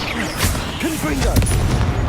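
Confringo fire spell explosions in the video game Hogwarts Legacy, a few quick blasts and crackling bursts, with a voice shouting over them.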